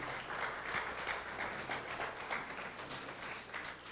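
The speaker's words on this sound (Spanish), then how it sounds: "Den un aplauso fuerte a Dios" A church congregation gives a loud round of applause to God, a continuous, full-room wash of many hands clapping at even strength throughout, with no speech on top.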